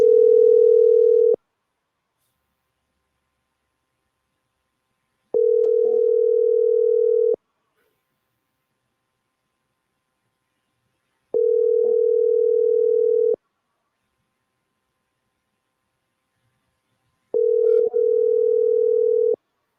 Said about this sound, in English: Let's call Andy Williams.